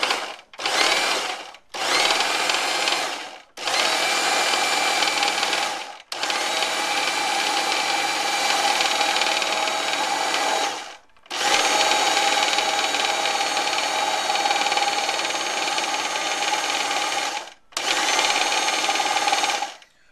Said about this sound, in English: If I can get the food processor together. Okay, so it's on high